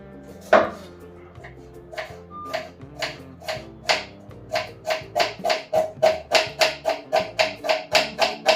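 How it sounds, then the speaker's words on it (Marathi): A knife thinly slicing two onions lengthwise on a cutting board makes close, crisp chops that start sparse and settle into a fast, even rhythm, with faint music underneath. "हे दोन कांदे उभे चिरून घेते पातळ"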